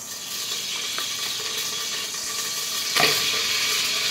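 Oil heating in a pan for Maharashtrian masale bhaat gives a steady close sizzle and hiss, with a brief louder burst near the end.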